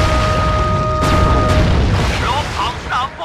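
A cannon shot from Sly 3: Honor Among Thieves slams into an armored boat, with two loud booming impacts close together, then a rumbling tail and squeaky, chirping game effects.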